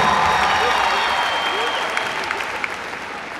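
A concert audience applauds a Rwandan singer, with a dense wash of clapping that gradually thins and leaves a few scattered claps near the end.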